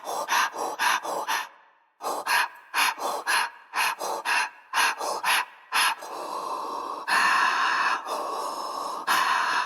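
A sampled breathing pattern played on an instrument: quick rhythmic gasping inhales and exhales in a steady pulse, then a denser, continuous run of breaths at a faster tempo, close and loud.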